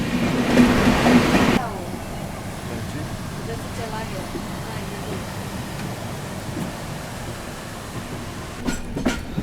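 The Goa Sampark Kranti Express rolls steadily onto a loop line on the Konkan route in the monsoon, with a continuous rumble and faint wheel clatter. A louder burst opens the stretch and sharp clanks come near the end.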